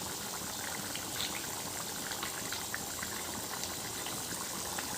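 Pigeon meat and potato curry bubbling and simmering in a pot, a steady dense boiling texture with soft pops throughout, fairly faint and continuous with no voices.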